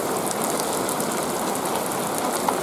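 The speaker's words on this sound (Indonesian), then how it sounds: "kini hujan sudah turun" Steady rain falls on a misty hillside at Pasir Malencer, an even, dense hiss of drops close around with no voices.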